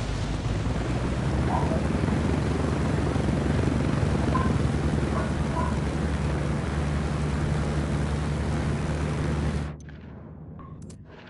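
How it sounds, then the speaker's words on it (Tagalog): A small helicopter in Ghost Recon Wildlands on PS4 flies with a loud, steady rotor and engine drone close by, until the sound drops away abruptly near the end. "Yung helicopter na maliit, mas mabilis pa sa eroplano."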